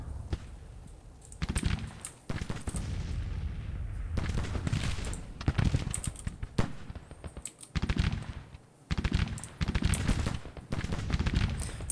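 Musket and artillery fire in a Civil War battle video game set at the First Battle of Manassas, repeated loud clustered volleys of shots with short gaps between them, at moderate distance.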